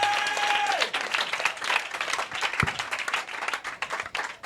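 A church congregation applauds and cheers during a worship service, a dense, sustained wash of clapping that stays loud throughout with a few voices calling out over it.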